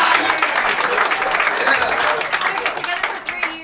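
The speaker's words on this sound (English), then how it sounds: "Round of applause." Audience at a comedy show bursts into loud applause and cheering, sustained clapping that carries on close and full for a few seconds before tapering off.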